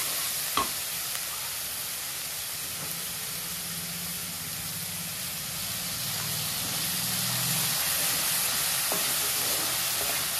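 Spices with salt, turmeric, chilli powder and a little water sizzle and hiss steadily in a pan for a Bengali doi katla fish curry, with a soft clink of a utensil early on.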